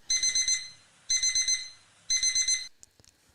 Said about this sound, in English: It's wake up time. Sound the alarms.